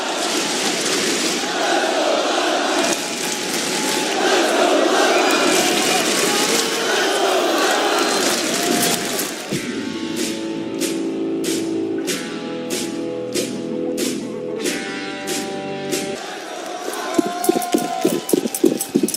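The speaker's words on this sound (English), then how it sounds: "Listen to this crowd!" Large esports arena crowd at the Boston Major Counter-Strike final on the Inferno map roars loudly, with layered game sound effects and sharp repeated hits in the second half.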